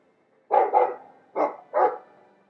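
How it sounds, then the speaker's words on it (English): A dog barks in the Dragon Age 2 video game, four loud, close woofs in two quick pairs, alone with no talk. "I like the doggy."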